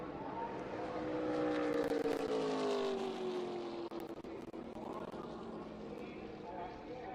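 ARCA stock cars roar past on the track, a loud engine drone with falling pitch sweeps as they pass close, fading to a lower rumble, while a commentator talks over it.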